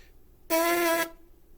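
A single buzzing lip tone from lips pressed together as for a brass embouchure, held steady for about half a second, bright and reedy with strong harmonics, sounding alone against quiet background.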